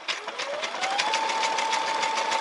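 A Brother SE630 embroidery machine stitches a small cross-stitch pattern, its needle hammering in a fast regular rhythm with a rising motor whine that settles into a steady hum, loud and close with no talking.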